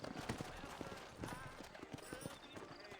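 Horse hooves clip-clopping in the western video game Red Dead Redemption, quick quiet hoofbeats in a steady trotting rhythm, soft and somewhat muffled under faint background sound.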